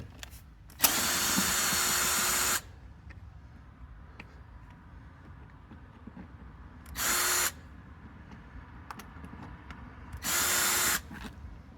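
A cordless power drill running in reverse backs screws out of a Wildersport tail light, three separate whirring bursts, the first about two seconds long and the next two shorter, with quiet gaps between.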